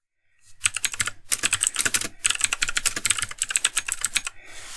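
Quick bursts of typing on a computer keyboard while writing a document in Microsoft Word, close and crisp, with rapid clattering keystrokes broken by brief pauses.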